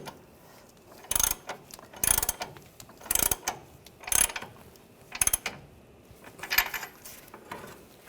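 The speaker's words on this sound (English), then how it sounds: "we'll tighten the nut" A ratchet fitted with a 22mm socket tightens the upper control arm nut on a 2011-2018 Ram 1500, giving about six short, sharp clicking bursts at roughly one-second intervals, close and clear.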